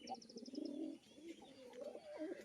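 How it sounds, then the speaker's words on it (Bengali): A male tumbler pigeon coos in low, rolling bursts nearby, fairly faint, with a short series of high chirps at the start and quiet background noise. "বাজিটা দেখছেন দেখুন কেমন ডাকছে"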